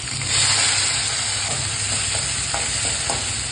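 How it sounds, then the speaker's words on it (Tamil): Fenugreek, cumin, mustard seeds, urad dal, shallots, garlic, curry leaves and chopped tomatoes sauté in sesame oil for vatha kulambu, giving a steady close sizzle with faint scrapes of stirring throughout. "நல்லெண்ணெயில இந்த மாதிரி நல்லா வதங்கிடணும்"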